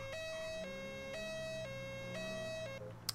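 Two-tone police siren in GTA 5 alternating between a high and a low note in a slow, even cycle, steady and somewhat distant over a low vehicle rumble.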